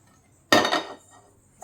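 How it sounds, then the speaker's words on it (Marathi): A metal kadhai is set down on a kitchen stove with a single loud clanking thud that rings briefly and fades, followed by a faint small clink. "इथं कढई ठेवून घेऊत आपण."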